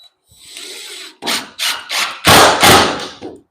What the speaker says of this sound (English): So now let's start putting the screws.